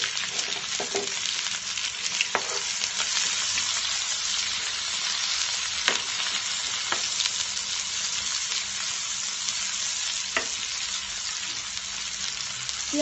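Chopped onion and garlic fry in oil for a Bengali banana stem dish, making a continuous close hiss and crackle, with occasional sharp ticks and spatula scrapes throughout and no one speaking.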